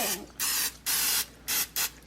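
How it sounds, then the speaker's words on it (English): Cooking oil spray misted over food for an air fryer, four distinct hissing bursts of about a third of a second each, close and loud with short pauses between. "I'm just going to take my spray and then just spray all over top of them."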